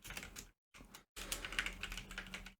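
Notes are typed into Notepad on a computer keyboard: quick, close, clattering keystrokes in two short bursts, then a longer steady run after a brief pause.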